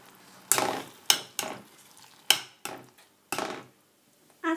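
Mashed potatoes with cauliflower, egg yolk and butter being stirred, heard as about six separate thick, squelching scrapes of a spoon against the pot, spaced apart with quiet gaps, close and fairly soft.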